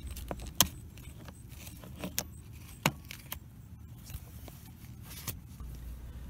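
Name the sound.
car key used to unlatch a Honda seat belt anchor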